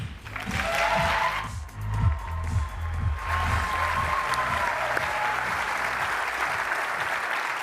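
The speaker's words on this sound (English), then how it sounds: "I thought that the clapping track and the woo thing was pre-recorded" A crowd at the Xbox One press conference breaks into loud, sustained applause with whoops, a dense wall of clapping that dips briefly and then carries on evenly throughout.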